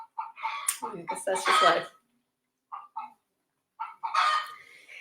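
Chickens cluck in short, close bursts, with a few brief calls between pauses, mixed with a person speaking.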